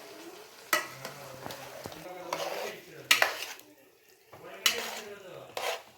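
A spoon stirs chicken masala in a pan, with several distinct scrapes and clinks against the metal over a soft sizzle, coming in irregular bursts up close while a voice talks quietly between them.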